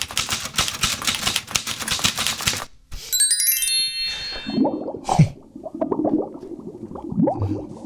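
Rapid mechanical typewriter keystrokes clatter for a couple of seconds, then a bright bell ding rings out clearly, followed by softer scattered clunks and rustles.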